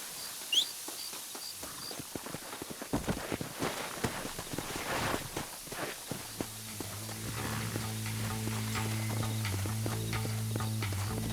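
Horse hooves in Red Dead Redemption on PS5 patter in quick irregular clip-clops, moderately near, over soft ambient game sound; midway a steady low drone of background music rises and continues beneath the hoofbeats.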